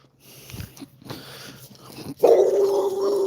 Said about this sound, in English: That's the dog barking in the background every time a person walks by this area.